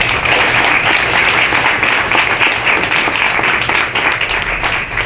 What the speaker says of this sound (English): our city council and our city leaders really deserve an applause for that